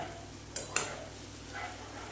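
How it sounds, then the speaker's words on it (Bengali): Boiled fenugreek leaves go into a spice paste already frying in oil, giving two quick sizzling, scraping bursts close by over a faint, steady background hiss. "এইবারে এই মশলার মধ্যে দিয়ে দেব এই যে মেথিগুলো, সেদ্ধ করা মেথিগুলো দিয়ে দেব"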